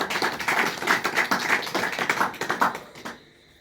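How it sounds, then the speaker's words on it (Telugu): A church congregation at a Telugu Christian sermon claps in loud, rhythmic bursts that run for about three seconds before stopping abruptly. "ఒకసారి గట్టిగా చప్పట్లు కొట్టండి."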